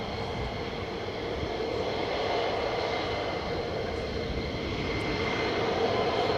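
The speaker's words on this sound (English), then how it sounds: "John Payne, most of the time they will use full afterburner" A military jet at RAF Lakenheath roars on full afterburner, a loud, steady, broadband rumble that holds evenly throughout with no pauses or voices.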